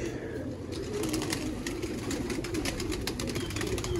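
Sialkoti pigeons coo in a continuous low, rolling murmur, several birds overlapping close by with steady loudness and a faint scatter of higher chirps above, no talk over them.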